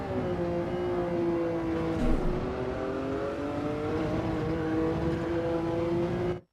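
A race car in Gran Turismo 7 powers out of a corner in third gear during a time trial, its engine a loud, sustained tonal drone whose pitch sags and climbs gradually before cutting off at the end.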